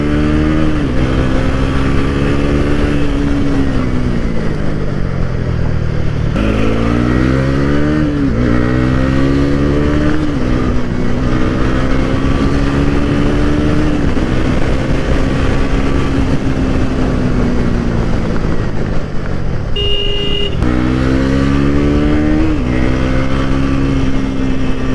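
A 2025 Bajaj Pulsar NS400Z motorcycle engine runs loud and close, revving up repeatedly through rising gear-like sweeps, with a smooth, steady drone between pulls and no voices.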